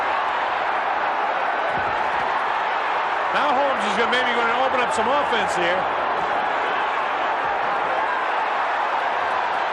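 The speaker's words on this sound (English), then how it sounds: "The crowd loves to see this." A boxing arena crowd at the 1988 Mike Tyson vs. Larry Holmes fight roars in a dense, continuous wash of cheering that swells slightly midway, with a commentator talking over it.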